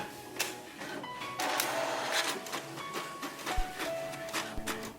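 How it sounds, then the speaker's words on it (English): An HP DeskJet 2723 all-in-one wireless printer prints a page, with faint mechanical whirring, clicks and feed noises rising and falling over several seconds, fairly quiet and close with no talk. "Now the printer will automatically print a page where you will find the Wi-Fi direct password."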